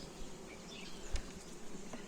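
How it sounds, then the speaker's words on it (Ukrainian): Honeybees hum from an opened hive of a bee colony, a faint continuous buzzing drone with a brief knock partway through; no talk. "Знімаємо дашок, відкриваємо нашу бджолосім'ю"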